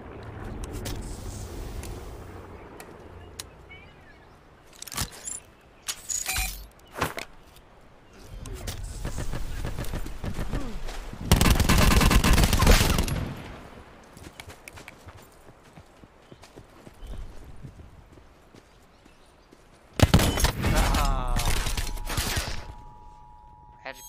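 Gunfire in Call of Duty Blackout, bursts of rapid shots and a long loud barrage mixed with game clatter and effects, while players talk over it.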